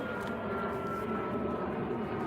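A fixed-wing airplane drones steadily overhead, a continuous engine hum that stays even for a couple of seconds with no talking.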